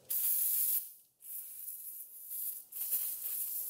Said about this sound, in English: I'll go ahead and do a little preemptive PB blast in here